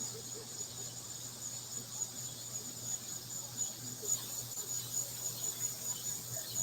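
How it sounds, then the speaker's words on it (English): Crickets chirp loudly and continuously, a dense shrill trill held steady throughout with a faint low hum beneath and no talking. "I do not know what's up with these freaking crickets today. Because normally they never this loud."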